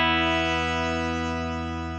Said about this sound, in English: Now we do have a reverb time here on the Headrush Shimmer.